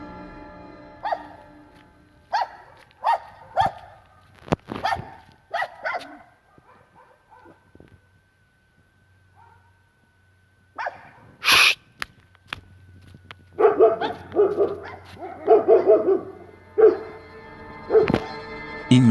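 Several dogs in an outdoor area bark in short irregular bursts, with quiet gaps in between and louder, denser barking toward the end, fairly close and with no talk.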